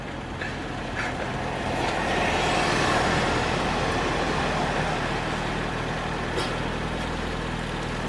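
MG Midget 1500 engine idling at traffic lights, a steady low rumble heard from inside the small car, swelling slightly midway before settling back.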